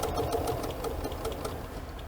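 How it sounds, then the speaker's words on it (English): A sewing machine stitches through the felt of a handmade bag, a steady, close mechanical whir with rapid, even needle knocking running throughout. "We only want to be stitching through the felt portion of the bag."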